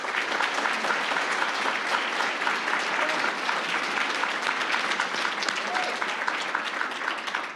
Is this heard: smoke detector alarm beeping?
no